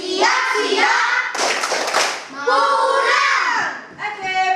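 Children chant together in a classroom, with a burst of rhythmic hand clapping in the middle of their sing-song voices, loud and close.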